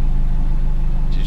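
A car engine idles steadily in a video game, a loud, even low rumble with a regular pulsing throb and no talk over it.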